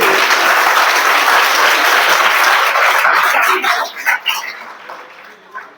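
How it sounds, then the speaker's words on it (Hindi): Loud audience clapping during a Jain religious sermon in Bhopal, a dense sustained burst that breaks into scattered claps and fades out over the last two seconds. "आजीवन बजाओ तालियां जोर से"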